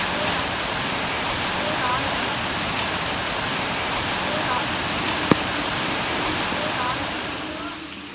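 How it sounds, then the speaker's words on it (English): Heavy rain pours steadily on Cat Ba Island, a dense, continuous hiss of big fat drops drumming on surfaces close by, with one brief sharp knock partway through before the downpour eases slightly at the end. "Big old fat rain."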